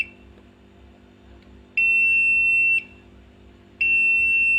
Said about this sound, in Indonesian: ini kita beri halangan di sini di modulnya, maka akan berbunyi alarm